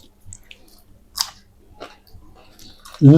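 Close, soft chewing and biting on a piece of homemade roti, a few quiet crunchy bites spread across the moment, ending in a sudden louder burst.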